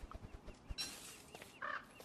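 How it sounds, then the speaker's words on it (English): A gobbler, the turkey-like bird in the game Don't Starve, gives a few short gobbling calls over faint game sounds, quiet and brief. "A gobbler's run by trying to go to sanctuary in the bush"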